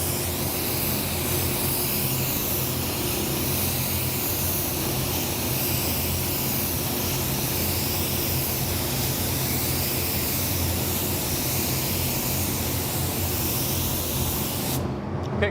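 Continuous loud hissing spray from an airbrush applying a sealer coat, steady and close, running for the whole stretch before cutting off abruptly at the end.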